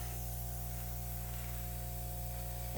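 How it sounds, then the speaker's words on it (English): An airbrush sprays acrylic paint in one unbroken, even hiss, steady and close for the whole stretch with a low hum underneath. "Airbrushing is fun."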